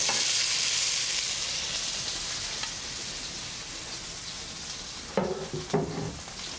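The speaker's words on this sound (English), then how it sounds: "I'm going to just caramelize the potatoes in this oil" Potatoes caramelizing in hot olive oil make a steady, moderately loud frying hiss that slowly eases, then two sharp utensil clatters land near the end.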